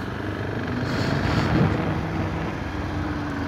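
Husqvarna 510 SMR motorcycle engine running loud and close, a steady rough roar that swells slightly midway and holds without a break, with no voices over it.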